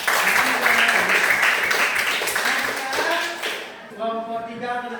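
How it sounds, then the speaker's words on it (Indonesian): A classroom group claps for the third group, a dense burst of steady applause that fades out toward the end, where a voice starts speaking. "Tepuk tangan dulu untuk kelompok 3."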